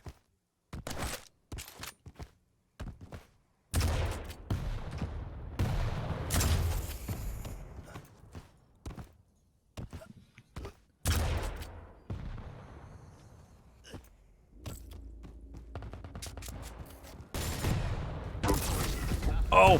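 Rocket blasts and weapon fire in a Quake Pro League match, sharp bursts and booming impacts separated by brief silences, loud and close, with a commentator talking over parts of it.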